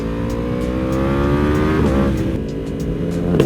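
A Yamaha R1M sport motorcycle engine revs loudly and close, its pitch climbing steadily and then dropping briefly before rising again, a continuous high-revving roar with no talk over it.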